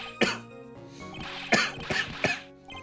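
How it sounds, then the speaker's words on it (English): Several loud, sharp coughs in the Ace Attorney video game, a deliberately fake-sounding cough burst near the start followed by three more spaced coughs over a soft background music bed. "could that stupid cough possibly sound any phonier?"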